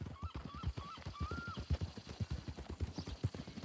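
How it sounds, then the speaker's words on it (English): Horse hooves clip-clop in a fast, steady rhythm in the video game Red Dead Redemption 2, close and soft, with a few high call-like tones above the footfalls. "That a new horse?"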